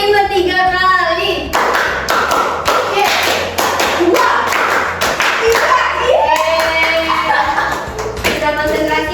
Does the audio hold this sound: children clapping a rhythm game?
yes